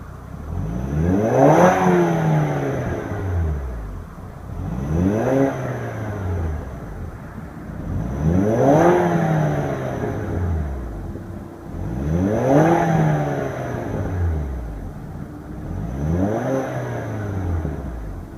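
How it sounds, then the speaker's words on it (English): A 2014 Land Rover LR2 revved in repeated bursts while parked, each blip rising and falling in pitch, about five strong revs with a throaty exhaust note, loud and close with no talking. "let's go ahead and give it a few rev and let you listen to the exhaust sound"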